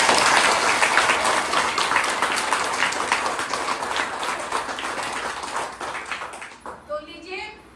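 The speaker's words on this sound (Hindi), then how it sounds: "तो सब जोर से ताली बजाएंगे पहले" A theatre-workshop audience applauds loudly before a children's play, a sustained burst of clapping that slowly thins out over several seconds before a voice starts speaking.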